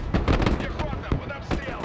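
Grenade explosions in the military strategy game Broken Arrow, a rapid cluster of thumping booms and crackling blasts, dense and loud, with talk mixed in.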